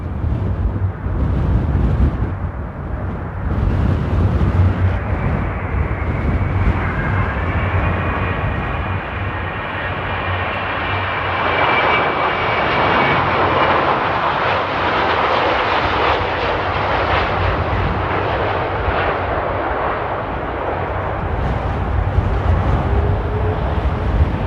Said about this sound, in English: there's the A330 Neo, folks.